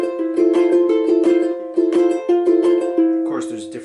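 Ukulele played by plucking with the thumb and strumming with the index finger, a close, bright rhythmic pattern of plucked notes and quick strums, with a brief voice at the end.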